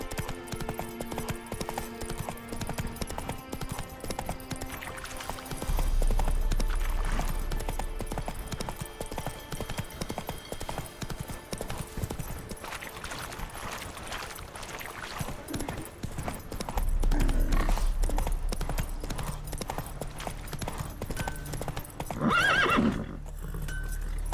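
Roach, Geralt's horse in The Witcher 3 video game, gallops with steady rhythmic hoofbeats over background game music and ambience, swelling louder in two surges, with a neigh near the end.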